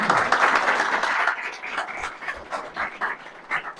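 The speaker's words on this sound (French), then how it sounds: "qu'on remercie, qu'on applaudit" An audience at a corporate keynote event claps loudly, then the applause thins into scattered separate claps before fading out.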